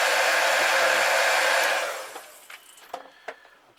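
A hair dryer blowing on fresh paint on a crankbait fishing lure, a loud steady whoosh heard up close that cuts off after about two seconds, followed by a few faint handling taps.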